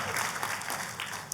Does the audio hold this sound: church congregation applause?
yes